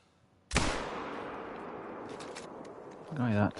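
A single hunting rifle shot in The Hunter: Call of the Wild video game cracks loud and close, then rolls into a long fading echo before a voice briefly speaks.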